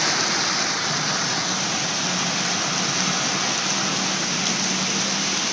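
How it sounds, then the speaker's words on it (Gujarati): Heavy monsoon rain pours down in Gujarat, a dense, constant roar of rainfall hitting surfaces, loud and unbroken throughout with no voices. "मित्रों आप જોઈ રહ્યા છો કે વરસાદ અત્યારે વધી રહ્યો છે"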